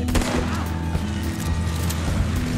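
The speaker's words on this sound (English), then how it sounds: "Yeah, go ahead and shoot him." In Red Dead Online, gunfire is aimed at a stagecoach driver: a rapid, dense burst of shots over a constant low rumble, loud and close, with no clear speech.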